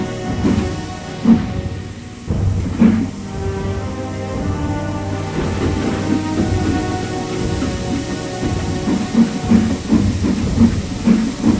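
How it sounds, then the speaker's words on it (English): A steam locomotive draws near, its rhythmic chuffs and hissing steam growing clearer and stronger, with the puffs coming faster and louder toward the end. "That sounds like an engine, he thought."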